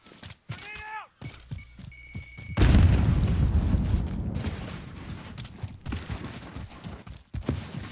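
A video-game grenade blast erupts as a loud, close boom that rumbles and fades over several seconds, preceded by brief clicks and a chirp, with scattered thumps after.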